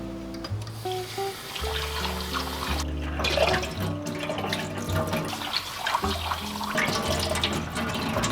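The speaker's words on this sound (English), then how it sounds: "we gotta water these chickpeas now." Water poured over sprouting chickpeas, a continuous splashing, running flow with gurgling that shifts in pitch, close and moderately loud, with no speech.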